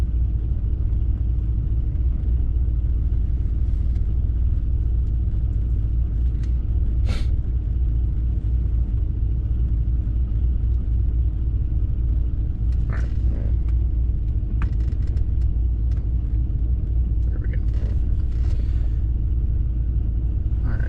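A car with about 165,000 miles, not yet at operating oil temperature, rumbles steadily from inside the cabin while driving, a loud continuous low drone with occasional faint clicks and knocks.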